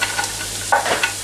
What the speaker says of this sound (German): die Zwiebeln brutzeln schon mal vor sich hin